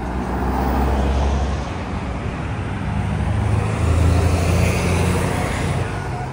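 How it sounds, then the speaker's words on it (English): Steady road traffic rolls past a Puffin crossing on the A5127 in Erdington, a continuous broadband roar of cars and heavier vehicles with low rumble, close and constant with gentle swells, no talk. "Here we have a Puffin crossing in Erdington on the A5127"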